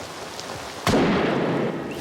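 Heavy rain bursts in suddenly on an outdoor night film shoot, a loud broadband downpour hiss that swells and holds steady after a quieter start.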